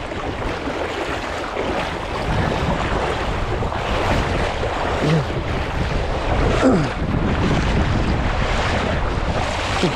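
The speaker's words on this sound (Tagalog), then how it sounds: "Malakas yung agos." Strong river current rushing steadily, a loud broadband roar of churning water that stays constant and close throughout, with wind buffeting the microphone.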